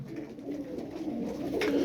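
Sarıkır play pigeons coo in a group, low soft throaty calls that overlap steadily and swell slightly toward the end, close and moderately loud.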